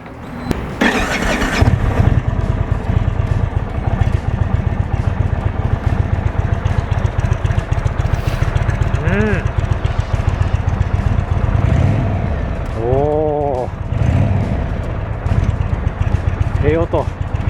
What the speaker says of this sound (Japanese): ではロードマスター、実際エンジンかけて排気音とかエンジンのフィーリングチェックしていきます。